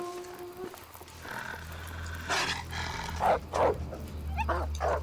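Wolves in The Long Dark survival game growl and yelp nearby, a low rumbling growl under a few sharp, short yips and snarls in quick succession.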